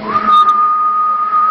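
A single sustained steady whistle into a CB radio microphone on a 27 MHz station, a loud, clear tone held for over a second with a brief wavering start.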